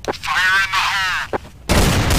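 A grenade explodes in Counter-Strike: Source on the Office map. A raised voice comes first, then a loud, broad blast erupts near the end and keeps rumbling until the clip stops.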